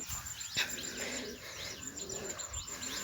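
Pigeons coo softly in repeated low, rolling calls, with faint chirps from other birds and a thin high insect-like whine running throughout; no one speaks.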